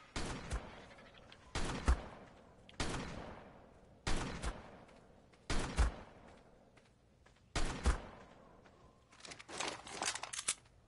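Shotgun fire at a mech in the video game ARK during a PvP fight: a series of loud, close blasts about every one to two seconds, each with a short rattling tail, ending in a faster burst of fire.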